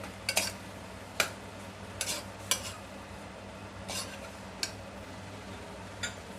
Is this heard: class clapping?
no